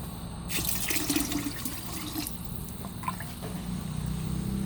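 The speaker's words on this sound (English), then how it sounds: "that was 4 cups of water that I just put, and we're about to put 4 more cups" Four cups of water poured into a pot of Louisiana shrimp and crab seafood gumbo, a steady close splashing pour that runs the whole time, with a few clinks and no talk.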